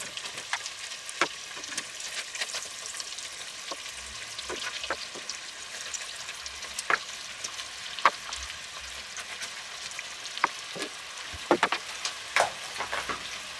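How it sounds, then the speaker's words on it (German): Black Angus beef sears in butter in a pot, giving a continuous crackling sizzle scattered with sharp pops and spits throughout, with no talk. "das tun wir jetzt in Butter ordentlich anrösten, anbraten, anschmoren."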